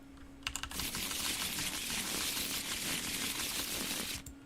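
A deck of Arkham Horror 2nd Edition encounter cards is shuffled, giving a few quick flicks and then a steady, close, papery riffling rush of about four seconds, with no voices.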